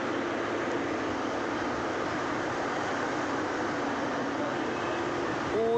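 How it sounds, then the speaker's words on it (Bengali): Platform ambience at Darjeeling railway station, a steady broadband rumble and hiss of a train and station air that holds evenly throughout, with a brief tonal squeal near the end. "আমি দার্জিলিং স্টেশনের 3 নম্বর প্ল্যাটফর্মে দাঁড়িয়ে আছি।"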